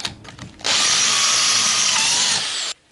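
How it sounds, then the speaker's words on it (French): A power drill bores through sheet metal during a custom interior fitting on a Citroën Traction 11B, starting with a few short bursts and then a loud, steady, high whining run lasting about two seconds before stopping abruptly, with no talking. "Pointage. Perçage,"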